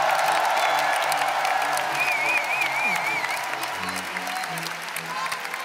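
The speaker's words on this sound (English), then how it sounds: "Give her a round of applause," Sustained, dense audience applause fills a large arena at the Eurovision Song Contest 2015, loud and steady throughout, with a faint sung or voiced tone drifting over it midway.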